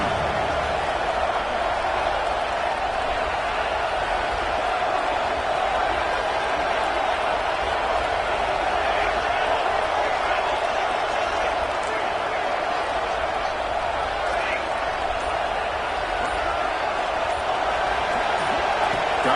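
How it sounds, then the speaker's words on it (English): A football stadium crowd roaring steadily as the defense plays down in the red zone, a dense continuous wash of cheering and noise throughout, with commentary voices in the mix. "the crowd coming to life here, trying to help this defense down in the red zone"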